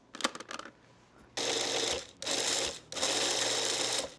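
A food processor whirls flour, slivered almonds and brown sugar for a crumble topping: a few clicks and handling noises, then three loud close bursts of motor whirring separated by short pauses.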